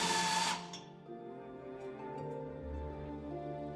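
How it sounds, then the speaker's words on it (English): A power drill bores a hole for a supporting rod in steel. It starts with a loud bright burst, then settles into a steady, moderate whirring hum with faint mechanical tones. "I drilled another hole for the supporting rod, safely, carefully, and without fingers being split open."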